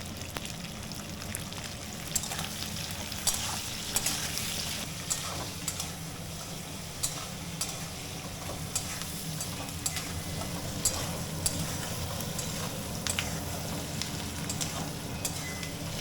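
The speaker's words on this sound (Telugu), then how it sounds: "క్యాప్సికమ్ ఆనియన్ కొద్దిగా ఫ్రై అయిన తర్వాత వేసుకోవాలండి తగినంత." Capsicum and onion fry in a pan for chilli chicken, a steady soft sizzle with occasional scraping and stirring clicks, close and continuous with no talk.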